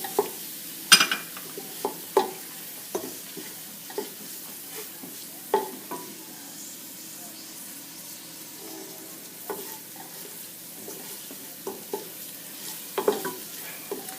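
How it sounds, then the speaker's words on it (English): Onions and a tablespoon of cumin sauté in a pan, a soft continuous sizzle punctuated by a dozen or so sharp clicks and scrapes of a utensil stirring against the pan at irregular intervals. "You want to cook it down until the onions are a little translucent and soft."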